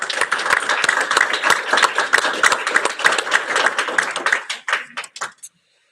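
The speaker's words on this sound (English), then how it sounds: "please join me in a round of applause to acknowledge our students' accomplishments" An audience at a graduation ceremony breaks into dense, sustained applause, many hands clapping together loudly before thinning out to a few scattered claps and stopping.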